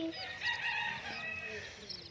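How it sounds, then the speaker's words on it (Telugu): A rooster crows in a drawn-out call amid chickens clucking nearby, with faint background chatter of birds. "ఇవి మా కోళ్ళ ఫ్రెండ్స్"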